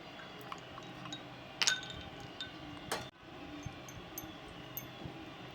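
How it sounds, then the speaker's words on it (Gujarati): Ice cubes dropped into a glass of fennel sharbat, giving a couple of sharp glassy clinks and a splash amid faint liquid sounds, close and fairly quiet. "બરફ એડ કરીશું."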